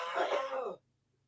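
A person clears their throat with a rough, rasping cough-like burst lasting under a second, close and fairly loud, then silence.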